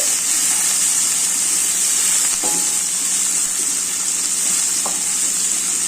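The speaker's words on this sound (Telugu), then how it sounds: "ఆనియన్స్ వేసుకోవాలండి. లో ఫ్లేమ్ పెట్టుకోండి." Onions and green chillies frying in a pan over a low flame give a steady, close hiss and sizzle throughout, with a couple of faint clinks of stirring.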